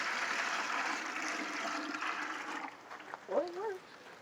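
Water pours and splashes into a 5 gallon chicken water bucket in a steady rush that stops abruptly, followed by a brief trickle and a short voice.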